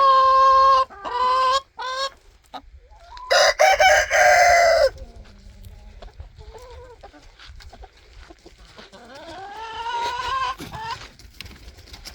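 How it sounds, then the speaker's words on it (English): Chickens cluck and squawk close by, with one loud crow-like call in the middle, followed by softer clucks from the flock. "Nothing like a whole flock of chickens following you"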